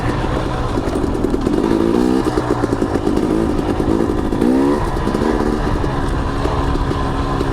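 KTM 250 XC dirt bike ridden in second gear along a tight, little-used trail, its engine buzzing steadily and loudly close by with rhythmic rises and dips in pitch as the throttle is worked.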